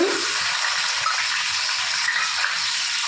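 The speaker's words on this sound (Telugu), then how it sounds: "ఇప్పుడు ఇది కొంచెం వేగాలి లైట్గా. చూడండి, ఇలా వేగుతున్నాయి కదా" Thinly sliced beans and carrots fry in oil in a pan, a dense, even sizzle close by with light stirring rattles, steady for a few seconds and no voices.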